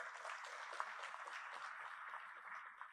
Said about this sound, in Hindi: कलिता जी के लिए ताली बजाओ जरा